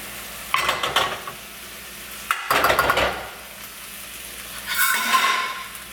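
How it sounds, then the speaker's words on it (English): Sauce poured into a hot pan hisses in loud bursts, and between them the pan settles into a softer, steady bubbling sizzle close by. "once that's fully cooked all the way, I'm gonna add my sauce"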